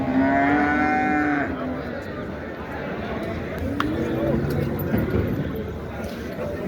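At a livestock market in Dabwali, a cow lets out a long, low moo close by, followed by a quieter second call, amid outdoor background noise and people talking.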